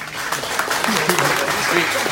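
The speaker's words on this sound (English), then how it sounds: "Everybody give a round of applause for Ken." Brief round of applause at a real estate round table meeting, a dense patter of clapping hands filling the room with voices mixed in underneath.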